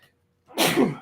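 A single loud, close sneeze bursts out after a short silence, a sharp breathy blast that tails off within half a second.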